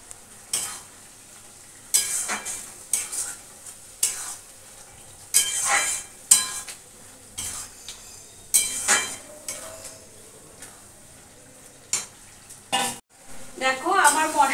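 Fried potatoes tumble into a hot pan of masala, followed by repeated sharp scrapes and knocks of a spoon against the pan amid a light sizzle, with intermittent pauses.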